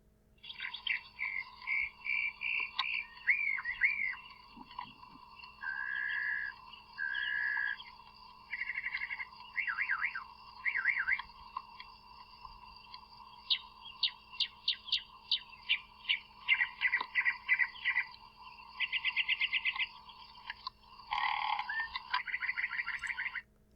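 A songbird runs through a rapid series of repeated electronic-sounding phrases, warbles, whoops and chirps over a steady tone, mimicking a car alarm.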